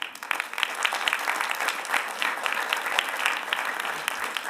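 Audience at a Mecklenburg County State of the State address applauds steadily, a dense, sustained clapping from a large crowd filling the room with no voices over it.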